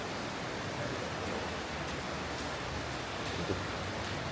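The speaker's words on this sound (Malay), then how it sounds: "hujan lebat ni" Heavy rain pouring outside an apartment condominium: a dense, steady hiss of falling water fills the whole stretch evenly, with no voices.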